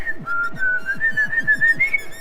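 A person whistles a bright, lilting tune alone, clear and close, with steady low rhythmic tapping underneath.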